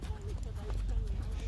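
Horses trot along with soft hooves clip-clopping in a quick rhythm over a low rumble, while a person speaks over them.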